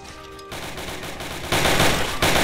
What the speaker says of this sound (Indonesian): Wih, kita menembak machine gun.